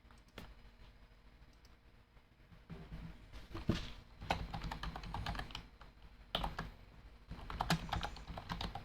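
A computer keyboard clatters with irregular bursts of keystrokes, sparse at first and then busier, close and fairly quiet, with no talk.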